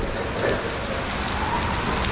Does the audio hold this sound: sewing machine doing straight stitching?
no